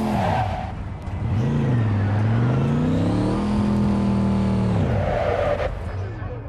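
A car engine idles and revs in Cyberpunk 2077, its pitch rising and falling steadily across the clip, with a voice talking over it.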